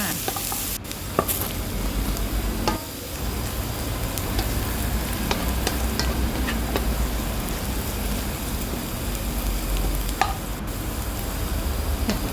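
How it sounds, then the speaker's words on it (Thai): Garlic stir-fries in a pan, a steady close sizzle with scraping stir strokes running throughout, no voices. "ลงกระเทียมค่ะต่อไปค่ะ ผัดให้กระเทียมหอมค่ะ"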